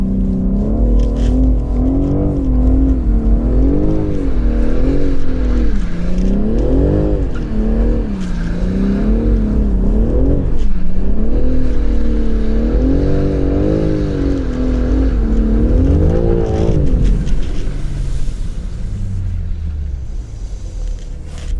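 A BMW M3 Competition drifts on a track, its engine revving and wavering up and down through long sideways slides, loud and continuous with tire squeal, then easing off near the end.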